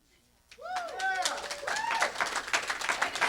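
An audience at a stand-up comedy show in Oklahoma bursts into loud, sustained clapping after a brief quiet moment, mixed with whoops and cheering voices throughout.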